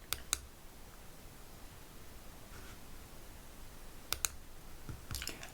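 A computer mouse gives a few sharp, isolated clicks, a pair near the start and a cluster near the end, over a faint steady hiss in a quiet room.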